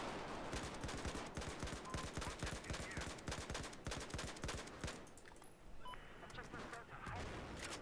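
Rapid bursts of gunfire in Battlefield 4 online rattle off in quick succession, then thin out into scattered shots with faint electronic beeps.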